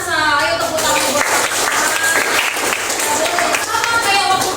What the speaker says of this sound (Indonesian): Ayo tepuk tangan buat